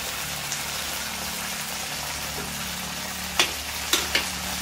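A hot pan sizzles steadily after a splash of vinegar is added, with a few sharp scraping clicks of stirring toward the end and no talk.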